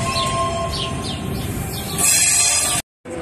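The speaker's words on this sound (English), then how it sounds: "waiting for this train to pass so we can cross over and catch our ferry on the other side." A long freight train passing near a Mississippi River ferry crossing, a dense rolling rumble of railcars with a steady tone and bird chirps above, growing harsher and brighter before cutting off abruptly, no talk.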